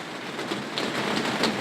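Autumn rain falls outside a country house veranda at night, a dense, steady patter on surfaces with soft drop clicks throughout and no voices.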